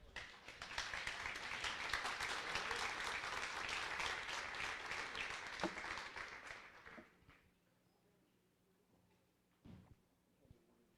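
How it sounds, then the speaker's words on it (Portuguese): A church congregation applauds, a dense, steady wash of many hands clapping for about seven seconds before fading into a quiet room with a few scattered knocks. "Se coloque de pé e aplauda o Senhor."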